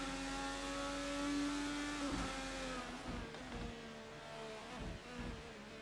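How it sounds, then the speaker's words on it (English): Indycar race cars at Barber Motorsport Park in a racing video game, engines screaming at high revs with rising pitch and sharp downshift blips, loud and continuous with no talk over it. "These cars sound good."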